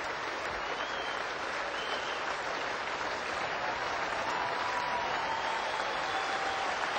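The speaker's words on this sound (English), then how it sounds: "Standing ovation from the crowd here at the Wacker." Sustained applause and cheering from a large cricket crowd giving a standing ovation at the WACA in Perth during a 1992 Test between India and Australia, a steady dense roar of clapping throughout.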